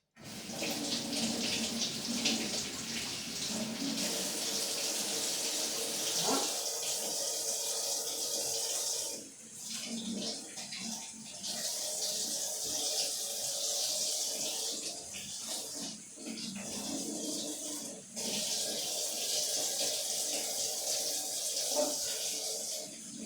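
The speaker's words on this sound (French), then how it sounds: "je les passe sous l'eau" Cut mushroom pieces are rinsed under a running kitchen tap, a steady hiss of flowing water in a sink that briefly drops away and resumes several times.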